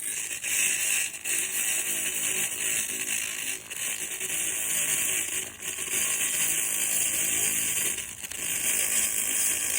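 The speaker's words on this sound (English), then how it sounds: "my off-road pulse laser" A steady, loud, hissing buzz fills the whole stretch as a pulse laser cleaner strips rust from lawnmower parts, with a few brief dips in the noise and no voices.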